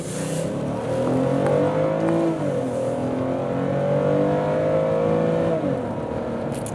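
Several cars driving past a stopped school bus, engines droning loudly and close by with pitch shifts as they go past, one after another.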